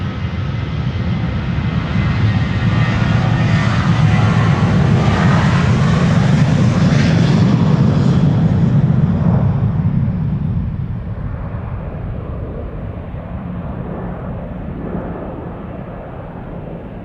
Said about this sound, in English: the 747 taking off from center to Dubai. KLM Cargo on its way to Dubai World Center.